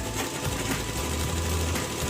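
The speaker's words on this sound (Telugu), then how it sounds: "ఈ విధంగా అరంగులు కొడుతున్నాం మనం." A sewing machine stitches a pant with a continuous fast mechanical chatter, loud and close, running steadily and alone throughout.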